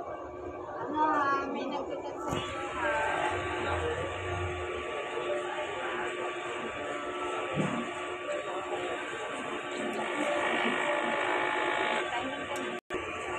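Head cleaning cycle of a print machine with printer head and capping station, a steady mechanical whir and buzz running throughout under background chatter, with a brief click near the end.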